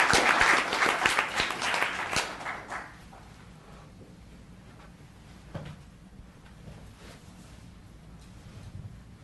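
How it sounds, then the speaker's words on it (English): Brief applause from a town council meeting audience rises at the start and dies away within about three seconds, leaving quiet room noise with a few scattered knocks and shuffles. "Another round of applause"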